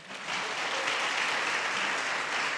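A church congregation claps together during a Portuguese-language sermon, a dense, steady burst of applause that swells quickly after a brief quiet start and holds evenly to the end.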